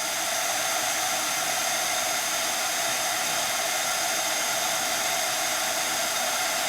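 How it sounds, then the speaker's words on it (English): A craft heat tool blows hot air onto embossing powder so it puffs up, a loud steady close-up whooshing roar that runs unbroken from start to finish, with no talk. "So I'm going to add some heat."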